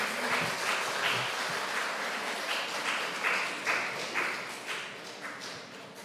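An audience at a church choir festival applauds in a steady, moderately loud wash of clapping that gradually thins toward the end.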